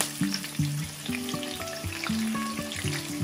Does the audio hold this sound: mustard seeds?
yes